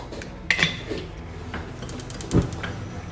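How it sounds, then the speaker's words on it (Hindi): A metal pressure cooker lid is pressed shut over mutton and bottle gourd curry, giving two distinct clanks, one near the start and a heavier one later, with quiet kitchen background between. "ऊपर से हम लोग प्रेशर कुकर को कर लेंगे बंद।"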